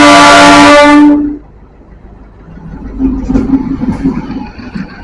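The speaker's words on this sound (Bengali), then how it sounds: "এটা সেখানেই যাচ্ছে লোকাল ট্রেন এখানকার" A local train bound for Banihal blasts a loud horn for about a second, then passes with a rumbling, clattering roll of wheels and cars that swells again toward the end.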